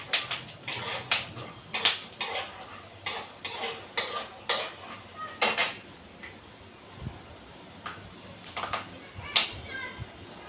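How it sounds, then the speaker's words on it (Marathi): Peanuts fry in a pan over a low flame with irregular metallic scrapes and clinks of a utensil stirring them, near and fairly quiet, under a soft background hum. "शेंगदाणे एकदम बारीक गॅसवर चांगले फ्राय करायचे"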